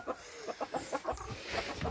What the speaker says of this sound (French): je vais aller vous montrer les autres poules